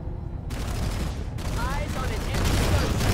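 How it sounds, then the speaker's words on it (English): Dense gunfire fills a Planetside firefight, loud and continuous with overlapping shots and booms, while players talk over the shooting. "I'm taking fire"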